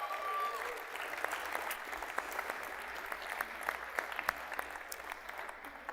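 Sustained audience applause, a dense steady patter of many hands clapping, moderately loud and continuing throughout with a faint tone at the start.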